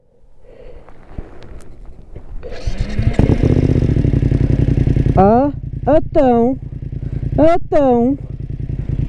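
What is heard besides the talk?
motorcycle engine struggling to start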